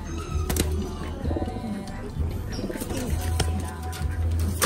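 Taiwan pigeons coo softly at a trap, their low repeated calls mixed with chirps and a few quick wing flaps, close and steady throughout with faint voices in the background.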